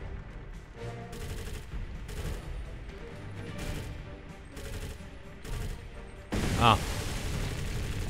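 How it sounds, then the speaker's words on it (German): Bursts of gunfire in James Cameron's Avatar: The Game, with repeated volleys of shots at a fairly steady rhythm, a voice speaking over them and a louder burst near the end. "Warum schießt er denn? Er hat einfach geschossen."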